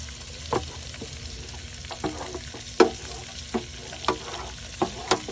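Sliced onion with green, red and orange peppers frying in rendered bacon fat, a close steady sizzle broken by sharp periodic scrapes and clacks of stirring, with no talking.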